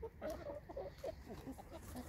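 A rooster kept with hens gives a run of short, low clucks in quick, irregular succession, faint but fairly close, over a quiet background.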